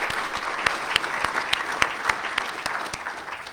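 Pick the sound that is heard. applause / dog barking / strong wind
applause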